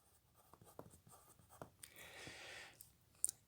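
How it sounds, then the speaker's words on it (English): Marker or chalk writing on a board during a math lecture on power series: a run of quick, scratchy strokes and taps, close and fairly quiet, with no voices. "So let me write that down."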